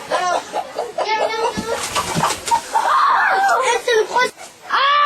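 A hen on a farm clucks and squawks loudly as it is lifted and moved, its agitated cries rising over close, overlapping talk.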